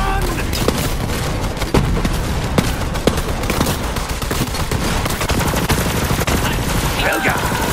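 Sustained rapid gunfire from a weapon in the video game Borderlands 3, loud and continuous with dense bursts of shots and occasional heavier booms over a busy game soundscape.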